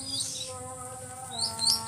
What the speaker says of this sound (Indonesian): Burung kepodang ada, burung kepodang ada juga abangku